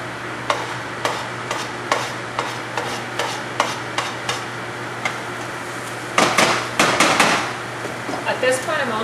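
Garlic goes into a pan of translucent onions frying, bringing a run of spoon scrapes and stirring knocks in an irregular rhythm, then a louder burst of sizzling and clatter near the end, close and clear.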